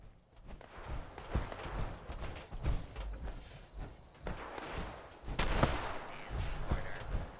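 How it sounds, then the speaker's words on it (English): Gunfire from the video game Fallout 76 comes in repeated sharp shots and short bursts at irregular intervals, with no one talking over it. "I thought I heard him shooting up here"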